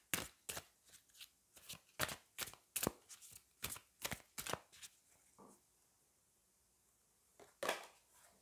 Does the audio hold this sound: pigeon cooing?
no